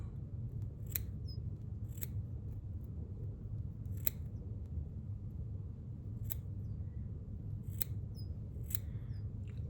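Scissors snip the backing off craft fur for a red and white pike fly, about seven crisp, close cuts at irregular intervals over a steady low hum, with no talking.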